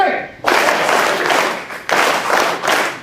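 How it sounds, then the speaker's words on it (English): Audience clapping together in rhythm at a leadership event, two loud synchronized bursts of claps separated by a short pause, close and full. "I'm able to hear the claps loud, but I'm not able to hear the words loud."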